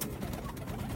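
Pigeons cooing on a rooftop, a low, steady throaty coo close by with no talking.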